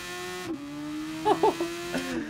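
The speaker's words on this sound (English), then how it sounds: "the off-throttle noise is so nice with this." Super Formula race car in GT Sport at night, a steady engine drone broken by crackling off-throttle pops and burbles in a few short bursts as the driver lifts and blips the throttle.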